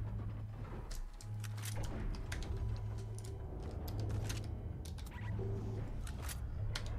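Keys clatter on a computer keyboard during a gaming session, a quick irregular stream of close clicks over a low steady hum from game sound.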